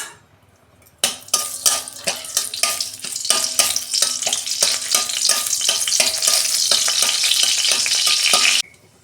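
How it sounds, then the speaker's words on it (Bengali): Two dried red chillies tempering in hot oil in a wok, a loud, steady sizzle that bursts in suddenly after a quiet second and crackles on close up, then cuts off abruptly near the end. "ওই কড়াতে আমি তেল দিচ্ছি, 2টো শুকনো লঙ্কা ফোড়নে দিচ্ছি"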